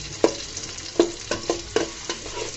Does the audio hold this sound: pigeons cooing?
no